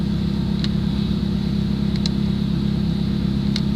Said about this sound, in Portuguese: agora é só o barulho do motor do carro. Tá forte mesmo.